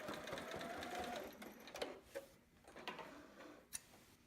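A sewing machine back-stitches a seam on a child's romper, a quiet whirring run followed by a few short ticking stitches and clicks, heard close but faint.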